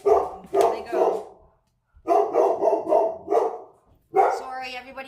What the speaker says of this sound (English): Sorry, everybody else's dogs are going to be barking now.